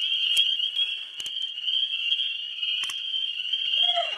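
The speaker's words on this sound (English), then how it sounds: "yellow spring peeper" Spring peeper frogs call in a dense chorus, forming a loud, continuous high-pitched ringing trill with brief louder peeps near the listener; no one speaks.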